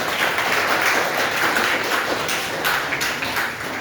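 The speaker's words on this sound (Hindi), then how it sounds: "ताली बजाओ इनके लिए, शाबाश।" Classroom of students clapping for a classmate, a steady dense patter of many hands held at an even level for several seconds, with no talking over it.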